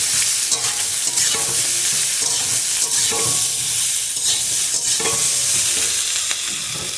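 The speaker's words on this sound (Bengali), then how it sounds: "এবারে ভেজে রাখা আলু আর লাউ ডাঁটাটা দিয়ে দিলাম।" Fried potatoes and bottle gourd stems go into a pan with browned onions, sizzling steadily and loudly while a utensil stirs and scrapes through them in repeated strokes.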